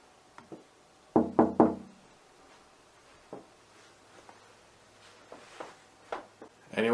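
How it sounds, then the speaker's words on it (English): Knocking on a door in a reputedly haunted room: a quick triple knock stands out, joined by a few scattered single taps and soft thuds against a quiet, hushed background. "See what happens if I knock on it."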